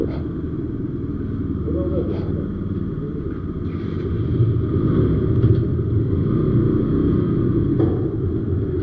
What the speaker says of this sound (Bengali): সকাল সকাল বাইকে আমি সবসময় কিক দিয়ে স্টার্ট করি